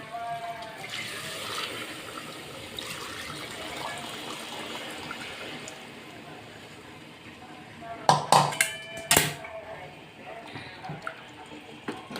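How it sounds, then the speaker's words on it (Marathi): Heated water is poured into a spicy chicken rassa curry, a steady watery trickle over several seconds, followed near the end by a few sharp metallic clanks of a pot and utensil. "हे पाणी आता गरम केलेलं पाणी त्याच्यामध्ये ओतूया"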